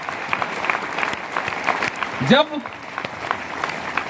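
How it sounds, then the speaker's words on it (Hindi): Steady applause from an audience at a business meeting of an Indian trading company, dense clapping running throughout at moderate loudness, with a voice rising briefly over it near the middle. "और आप सब इस बात के गवाह हैं कि आप सब तालियां बजा रहे हैं।"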